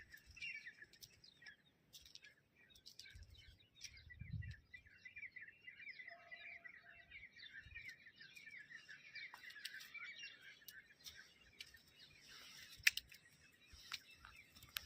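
Small birds chirp and twitter in a busy, continuous chorus over a quiet winter-morning village setting, with faint scattered clicks and a soft low thump; pigeons flock together nearby, the calls steady and moderately distant.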